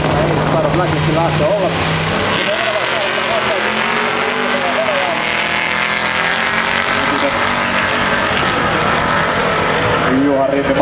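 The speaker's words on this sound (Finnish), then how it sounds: "Riimi Taimessiin Corvette vastaan Juho Talvitie Plymouth Campilla" A Corvette and a Plymouth race off the line at the Malmi street drags, a loud sustained roar of engines that stays close and steady throughout, with a commentator talking over it.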